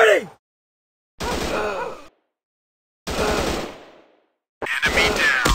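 Three long bursts of rapid machine gun fire from a night-time action shooter game, each loud and close, separated by short silences.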